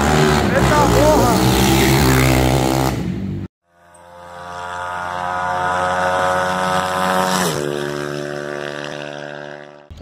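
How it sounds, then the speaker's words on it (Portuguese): A Start 160 motorcycle fitted with a 470cc FT 450 engine, heard on its first street ride: loud revving with a gear change, a sudden cut, then a long, steady, close engine drone that climbs and drops in pitch. "motorzão 470 cilindrada de FT 450"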